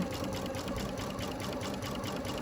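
Sewing machine stitching along a grid line, a fast even mechanical chatter of needle strokes, close and steady for the whole stretch with no talk.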